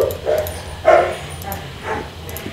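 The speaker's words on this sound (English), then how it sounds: "My dog's just playing." A dog barks and yips in short bursts while playing, a few sharp calls spaced across a couple of seconds with some whimpering, set against low background noise.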